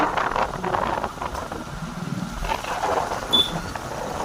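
A motorcycle engine drones steadily while riding in heavy rain, mixed with loud wind and rain noise, continuous throughout.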